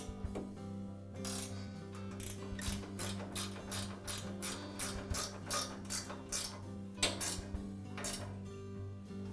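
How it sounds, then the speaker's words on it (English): Bolts holding the guide rod on an MK Diamond tile saw are tightened with a ratcheting tool, producing quiet rapid clicking bursts with short pauses, close up and alone. "So now I'll go ahead and tighten up the bolts that secure the guide rod."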